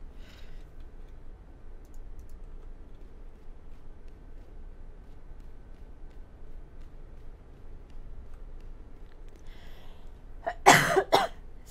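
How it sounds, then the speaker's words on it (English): A man coughs a few times in quick succession near the end, short sharp bursts close to the microphone after a long stretch of near silence with faint ticking. "Excuse me, got a cough today"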